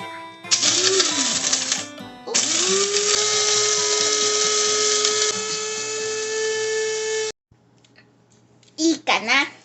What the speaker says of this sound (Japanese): 卵をクラックしてコーヒー瓶のグラインダーに入れます。